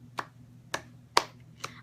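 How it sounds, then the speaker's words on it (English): A single person claps slowly and awkwardly, four sharp hand claps spaced about half a second apart, close and fairly quiet over a low background hum. "Awkward one-person clap."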